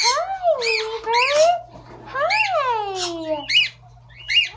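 A pet parrot squawks loudly and close by, giving several harsh, rising-and-falling calls in a row with short pauses between them.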